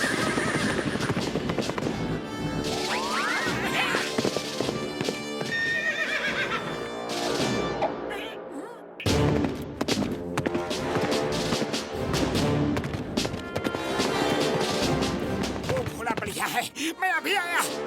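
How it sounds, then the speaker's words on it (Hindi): Cartoon horses in a Motu Patlu episode whinny loudly and clatter along amid a busy, layered soundtrack, the neighs and hoofbeats recurring over dense music and effects for the whole stretch. "वो देखो घोड़े, वो देखो, वो देखो, वो देखो घोड़े"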